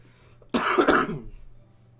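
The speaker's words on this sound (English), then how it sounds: "Now, the only reason I'm coughing is because it is very cold." A single harsh cough with some throat clearing, close and loud, from a person in a cold house, one burst lasting under a second against quiet room hum.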